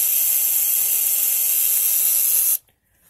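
A Ford relay in a 12V circuit stepped up to high-voltage AC oscillates with a steady, loud buzzing hiss that runs unbroken for about two and a half seconds, then cuts off abruptly into near silence.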